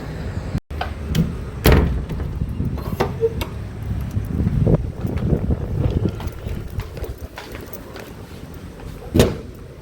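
Cold wind blows straight into the microphone outdoors, giving uneven low buffeting rumbles with a few sharp thumps and a stronger gust near the end, and no talking.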